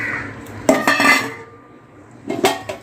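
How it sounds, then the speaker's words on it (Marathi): Cut pieces of raw mango drop into a grinder jar for a chana dal mango chutney, giving two clusters of close clattering knocks against the jar, one longer burst then a shorter one after a pause. "त्यामध्ये आपल्याला सर्वात पहिला इथे कैरी जी आहे कापलेली ती आपल्याला यामध्ये घालायची आहे"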